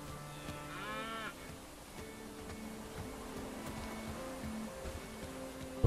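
A cow moos in the medieval village game Bellwright, one drawn-out bellowing call near the start set over steady game ambience and low tones, with no one talking.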